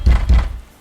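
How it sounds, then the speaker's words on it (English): Two solid knocks on a door, a pair of dull low thuds in quick succession, close and alone. "after some quite persistent knocking"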